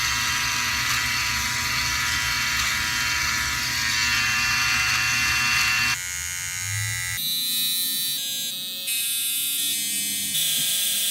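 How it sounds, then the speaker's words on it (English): A Philips OneBlade electric razor trims sideburns with a loud, close, continuous buzz whose pitch and texture shift partway through, with no talk. "I'm gonna keep using the OneBlade, and I'm gonna shave up my sideburns here"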